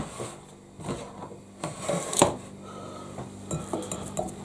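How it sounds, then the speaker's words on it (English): Clattering and scraping of kitchen items, with a sharp knock of a wooden chopping board set down on a hard surface midway, close and fairly loud. "I'm going to get my little chopping board over"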